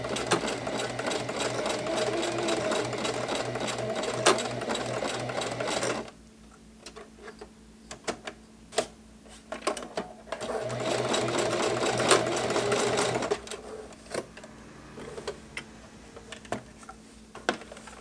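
Sewing machine stitching a second row of seams around a pair of pants, running in two steady bursts of rapid mechanical ticking separated by a pause with faint clicks and handling noise, close and alone.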